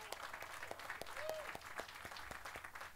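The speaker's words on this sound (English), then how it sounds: "let's go ahead and clap." A small crowd claps at a morning event as U.S. Senator Jeff Merkley of Oregon is introduced as the first speaker, faint scattered individual claps with a voice and a brief whistle-like tone.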